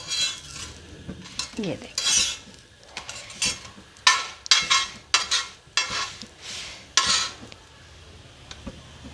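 Egg paratha cooking on a griddle, with intermittent scraping and sizzling bursts as it is pressed and turned, each surge rising and fading, near and fairly loud, and someone speaking briefly.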